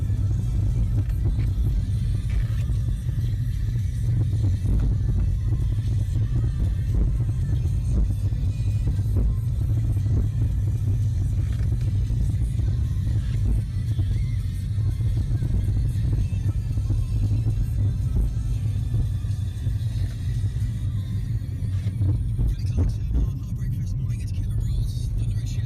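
Cars crawling in a traffic jam on a very wet day, heard as a steady, continuous low rumble of engines and road noise that stays close and even throughout.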